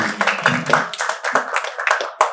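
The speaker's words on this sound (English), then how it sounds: "Big round of applause" A round of applause from an audience at the close of a business talk on marketing, heard as close, uneven clapping with distinct individual claps that thins out over a couple of seconds.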